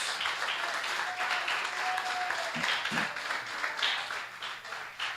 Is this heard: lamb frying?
no